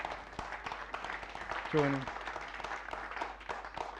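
Audience applause for a magic show volunteer at The Magic Circle, a steady crowd clapping through the clip with a brief voice cutting in near the middle.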